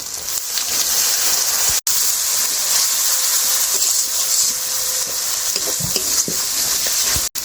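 Water is added to a pan of spices with turmeric and chilli powder while cooking chicken with masoor dal. A loud, continuous, close sizzle and hiss carries on with brief dips and light stirring.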